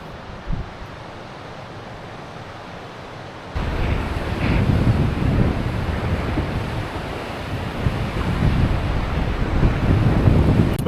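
Strong wind gusting past a cyclist on Iceland's Ring Road on a rainy morning, lighter at first, then a loud, steady buffeting roar across the microphone that keeps building.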